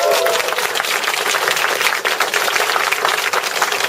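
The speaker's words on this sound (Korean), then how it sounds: "아까 5분을 위해서 다시 한번 우레와 같은 박수 한번." Loud, thunderous applause from a lecture audience for five honorees, dense clapping sustained evenly and close throughout without speech.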